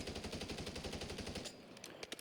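Gunfire from an unmodified 20-round gun in Modern Warfare 3, a fast steady burst of rapid shots for about a second and a half, followed by a few scattered clicks and thuds.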